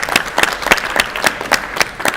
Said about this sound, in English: Can we have a round of applause, please, for Dr.